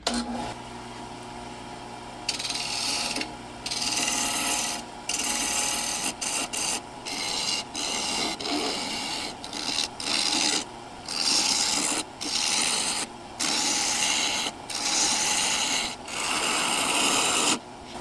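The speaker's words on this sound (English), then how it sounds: "I am using my bowl gouge because it is in bowl orientation." Bowl gouge cutting a wooden bowl blank spinning on a lathe, end grain running sideways; a rough, rasping scrape in repeated short passes over a low motor hum.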